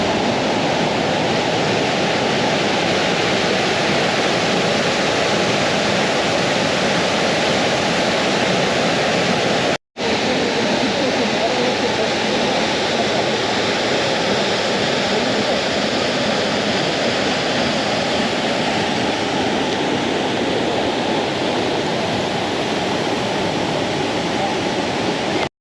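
Seetharkund waterfall at Kollengode roars as a steady, dense rush of falling water, close and loud throughout with one brief dropout near the middle.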